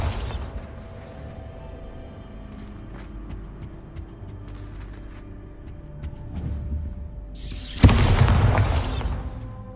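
Bombarda explosion spell in the video game Hogwarts Legacy, a loud sudden blast late in the clip with a dense rumbling burst after a quieter stretch of low game ambience and faint clicks.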